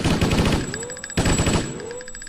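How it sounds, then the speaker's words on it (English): Machine gun fire in the video game Sniper: Path of Vengeance: two loud rapid bursts of shots, each trailing off with a ringing tail, close and dominant. "Yep, that seems like a machine gun."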